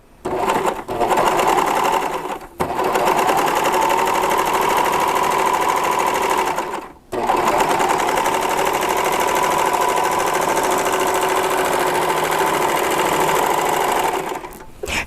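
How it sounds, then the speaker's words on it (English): A serger sewing machine stitches fabric in long steady whirring runs, loud and close, broken by two brief pauses before stopping near the end. "I'm just going to serge."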